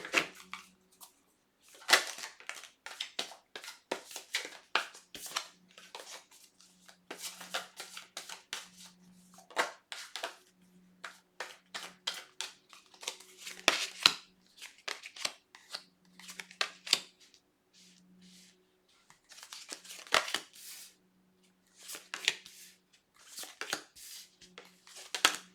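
A slippery tarot deck is shuffled in repeated quick riffling and slapping bursts, close and fairly quiet, with pauses between bursts and a faint low hum beneath.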